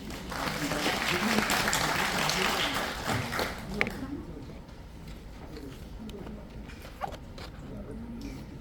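An audience at a redevelopment briefing applauds a speaker, with dense clapping for about four seconds before it thins out to scattered claps and a voice beneath.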